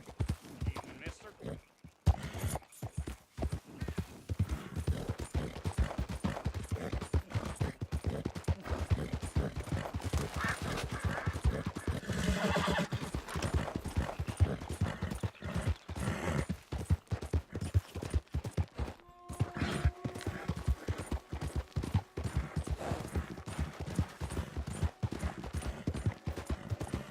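Horse hooves clip-clop steadily in the Red Dead Redemption 2 video game, a quiet busy rhythm with a brief whinny and game ambience, while a voice talks over parts of it.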